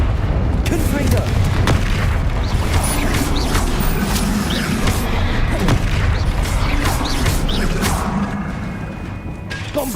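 Confringo spell explosion in the Hogwarts Legacy video game, a dense booming crash with clattering mechanical debris and sharp impacts, loud and sustained, mixed with busy game effects.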